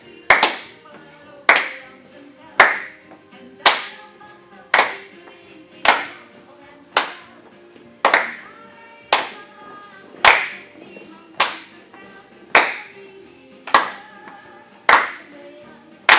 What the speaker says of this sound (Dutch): We stappen weer naar de zijkant en we klappen mee.